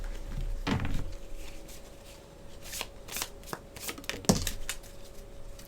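Tarot cards being shuffled and drawn by hand, with a few quick riffling bursts and soft card slaps close by, quiet and without talk.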